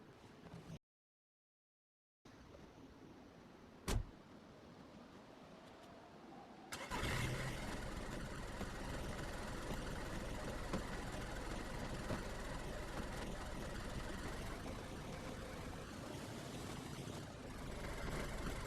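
A car engine in the video game DayZ cranks and catches after a short silence and a brief click, then settles into a loud, steady running drone that continues to the end without voices.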